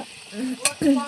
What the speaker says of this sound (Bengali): চিকেন কষার জন্য আমি এখানটায় আলুটা ভালো করে ভেজে নেব